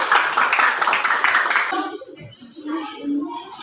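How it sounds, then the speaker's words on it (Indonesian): A classroom group claps for a student group's presentation, a dense burst of hands lasting under two seconds before a voice starts speaking. "Tepuk tangan."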